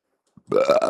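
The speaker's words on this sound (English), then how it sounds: "Pardon me, I had to burp." A single loud, close burp, short and throaty, rising briefly after a tiny click and then fading, with no talk over it.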